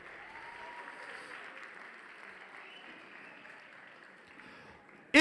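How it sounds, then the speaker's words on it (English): An audience at a mentorship competition event claps for themselves after time runs out. The steady applause is fairly faint and distant, and a sharp loud burst cuts in at the very end. "Give yourselves a round of applause."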